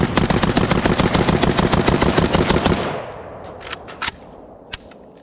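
An AK rifle fires at an outdoor range near dusk: a loud, rapid, sustained automatic burst for nearly three seconds, then stops, leaving a few sharp clicks and knocks afterward.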